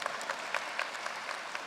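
Brief applause from a commencement audience at a business school MBA ceremony, a dense patter of many hands clapping, moderately distant and fairly soft, fading after under two seconds.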